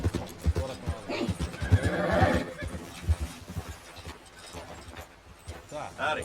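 A horse whinnies amid clip-clopping hooves in Red Dead Redemption 2, with busy game sound and voices running alongside at moderate loudness.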